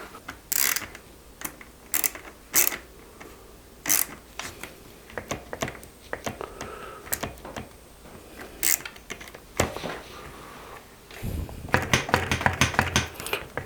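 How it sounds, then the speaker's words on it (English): A small ratchet wrench clicks in bursts on a Trek 3500 mountain bike being rebuilt, close and crisp with irregular runs of pawl clicks and a denser rapid flurry near the end, no voices. "Let's get ourselves a little wrench action. Been loving this little ratchet lately."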